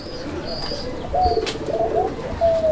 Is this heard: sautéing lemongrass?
no